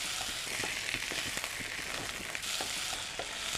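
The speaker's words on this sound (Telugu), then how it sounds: "చికెన్ని మనం ఫ్రై చేసుకున్నాం" Bone-in whole chicken pieces fry steadily in a pan with spices, a continuous dense sizzle broken by crackling pops and occasional stirring scrapes, close and alone without talk.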